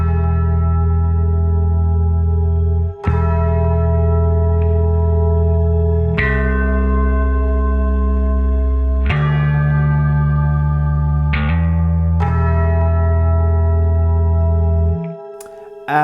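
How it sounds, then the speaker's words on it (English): Tubular bells from a Spitfire Audio BBC Symphony sample library, drenched in shimmer reverb, ring out as a slow series of bright, sustained strikes whose long, glistening tails overlap and swell. "It's the tubular bells, which are going like this."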